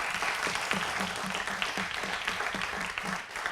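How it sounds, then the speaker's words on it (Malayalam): Audience applause at a televised birthday celebration show, a steady dense patter of clapping from a crowd throughout, moderately loud with no talk over it. "ഓഡിയൻസ് ഒരു കയ്യടി കൂടി കൊടുക്കൂ."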